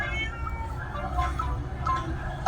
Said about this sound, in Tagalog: Magpakaon na sa mga alagang pusa